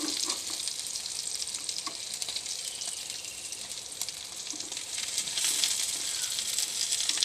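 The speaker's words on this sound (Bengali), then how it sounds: "এবার এর সাইডটা আমি ভালো করে লাল করে একটু ভেজে নেব" Pointed gourd (potol) frying in oil crackles with a continuous close sizzle, with faint stirring knocks and occasional louder spatter bursts.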